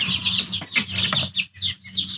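Young backyard chickens, hatched from eggs of the home flock, cluck and chirp close by in a steady, busy chatter with short pauses between bursts.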